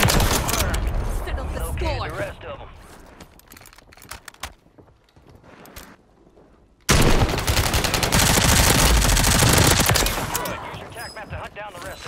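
Loud bursts of automatic gunfire in a first-person shooter video game, with a quieter gap in the middle before heavy firing resumes abruptly, and a voice is heard talking at times.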